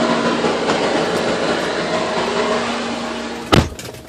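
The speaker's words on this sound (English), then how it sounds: "I apologize for that noise. A truck decided to pull up behind me just as I was doing the video." A truck pulls up close behind and idles, giving a loud, steady diesel-like drone with a low hum throughout and a sharp bump near the end.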